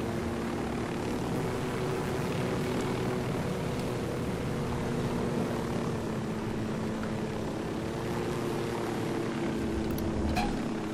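Helicopter flying in the Ghost Recon Wildlands video game: a steady, loud rotor and engine drone that holds without a break, with no voices over it.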